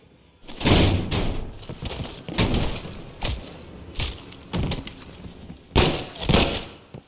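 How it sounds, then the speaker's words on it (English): A door being opened in the Call of Duty Black Ops Cold War video game, heard as a series of loud, separate thumps and creaking knocks spread across several seconds with short quiet gaps between them. "Open the door."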